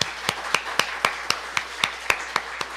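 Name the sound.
applause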